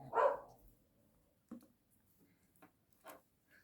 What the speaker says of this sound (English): He does bark funny these days.